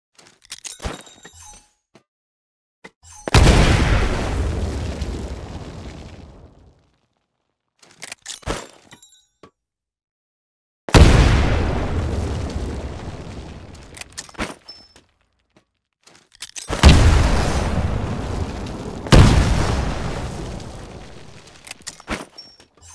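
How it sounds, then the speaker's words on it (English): Titanfall grenades go off one after another inside building windows, each a loud crashing burst that decays over several seconds, three main blasts separated by near-silent gaps with small clicks and rattles between. "Throw a grenade into each of the windows."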